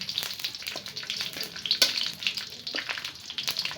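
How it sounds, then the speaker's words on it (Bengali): Spices sizzle in hot oil in a kadai as tempering for khichuri, a steady crackling hiss with small pops and spits throughout, fairly close, with no talking. "এখন খিচুড়িটা বাগার দিব"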